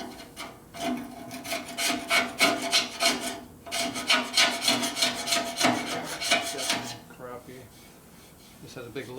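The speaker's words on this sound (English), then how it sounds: "Brought my little gasket scraper down to some clean material so that the new stripping glue will have something to bite to" Old gasket material is scraped off with a small gasket scraper in rhythmic, rasping strokes, repeated close scrapes in two bursts, then a pause, with some talking.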